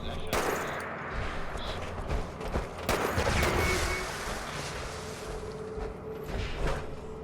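Fireworks crates blow up in the Fallout 76 video game, giving a dense, crackling run of sharp bangs and pops that carries on steadily for several seconds, loud and close.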